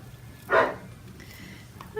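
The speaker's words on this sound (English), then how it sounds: "the dogs in the yard behind us are little yippy dogs is what I call them" Small yippy dogs bark from a neighbouring back yard, one sharp bark burst standing out at mid-distance over quiet outdoor background, with a faint high whine or yip rising at the end.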